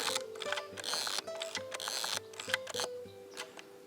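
Quiet mechanical clicks and ratcheting ticks in a quick, irregular series, close up: a film camera's advance lever winding on and the shutter being cocked.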